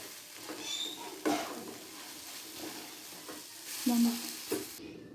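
Sauce being stirred into vegetable roll filling as it fries in a pan, with a constant sizzle under repeated scraping stirs and a couple of louder clanks.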